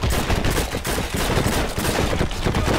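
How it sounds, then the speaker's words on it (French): Rapid gunfire in the video game Heroes & Generals, a dense crackle of overlapping shots and bursts that is loud and continuous throughout, with no voices. "Ouh là là, ça tire."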